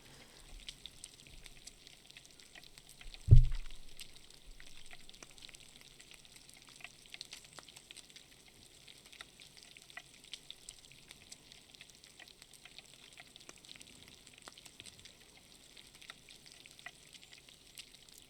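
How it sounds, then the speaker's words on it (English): A fish cooks on a stove in the video game Sea of Thieves, a faint, steady sizzle running throughout, broken once early by a single dull thump. "So we're going to put our fish down there, and then it will slowly cook."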